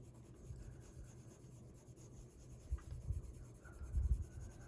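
A colored pencil scratches softly across paper while skin tones are filled in on a greyscale coloring page, a faint, steady rasp with a few firmer strokes near the end.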